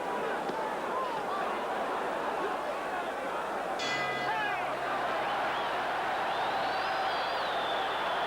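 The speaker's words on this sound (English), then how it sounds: "The bell for round two." A boxing ring bell rings briefly to start round two of the Joe Frazier vs Jerry Quarry fight. The single ring sits under a loud, constant arena crowd roar.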